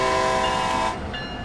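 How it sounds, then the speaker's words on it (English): A locomotive horn blares in Train Sim World 2, loud and steady, cutting off after about a second with a faint ringing bell tone continuing underneath. "So if I hit the horn now"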